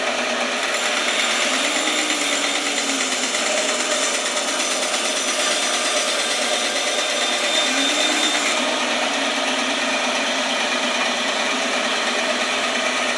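A power saw runs loud and steady while cutting support blocks, its motor whine holding constant with slight dips as the blade bites, no speech.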